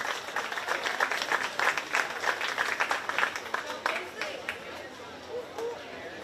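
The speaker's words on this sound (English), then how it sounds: "let's give him a big round of applause" A crowd at a 4-H sheep and goat show at a county fair claps for a young reserve-placing participant, a brief burst of dense applause that fades out, with murmured voices around it.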